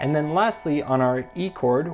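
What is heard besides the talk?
No distinct noise like a dog, phone or traffic.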